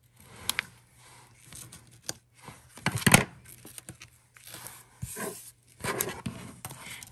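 Scissors snip through paper card in a run of crisp cuts with short pauses, one sharper, louder burst near the middle, close by and heard alone.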